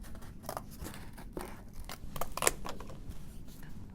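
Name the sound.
scissors cutting cardboard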